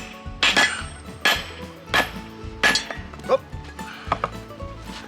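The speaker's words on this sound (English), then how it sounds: "that's not a very good anvil. This is my out in the woods anvil." Hot rebar is hammered on a makeshift anvil outdoors in the mountain woods: about half a dozen sharp metallic clangs ring out at an irregular pace, close and loud, with brief ringing between blows.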